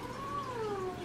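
A pet cat gives one drawn-out, falling meow, faint and slightly distant against a quiet room.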